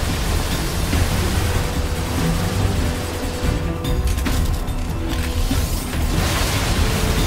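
Weapon fire in the video game NieR: Automata forms a dense, continuous, loud barrage of rapid shots and blasts, layered into a thick wall of noise with no pauses.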